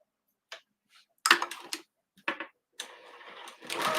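A sewing machine stitches a snap pouch in short, uneven bursts of whirring and clicking, with brief pauses between runs and a longer steady run near the end.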